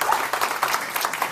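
Short burst of audience applause at a Toastmasters meeting, moderately loud with dense overlapping claps throughout and a few voices mixed in.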